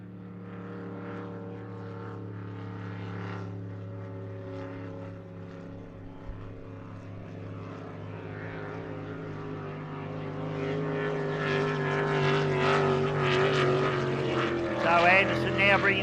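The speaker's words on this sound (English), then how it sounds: "Bringing that boat down past the commentary position, and it sounds strong, sounds good" A hydroplane racing boat engine drones steadily at the Eppalock Gold Cup, its rising roar building louder as it closes in and passes near, with a voice talking faintly beneath.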